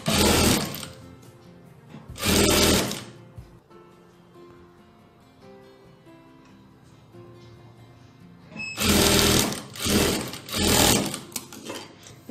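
A sewing machine stitching blouse fabric runs in short loud bursts of fast, steady mechanical whirring, with a quieter pause in between and no talk.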